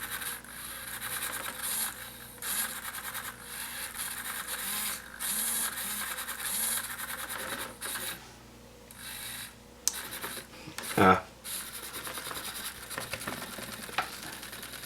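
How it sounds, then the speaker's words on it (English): A small servo motor on an Arduino setup jitters with a faint, continuous buzzing and grinding hum, pulsing irregularly, with one sharp click partway through. "shaking servo."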